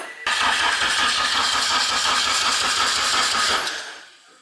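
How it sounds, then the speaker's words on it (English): A steady, slightly weak electric whirring hum from a K-swapped Honda Civic's fuel pump priming runs for about three and a half seconds, then winds down and fades, heard up close. "It does sound a little weak, but heard the pump."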